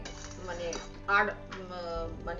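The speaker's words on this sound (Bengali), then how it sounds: "খুন্তি দিয়ে এইভাবে পুরো এর সাথে মিশিয়ে দিতে হবে" A metal spatula scrapes and clinks against a pan while tamarind pickle is stirred, with a few close, uneven scraping strokes and a brief louder clatter under faint background noise.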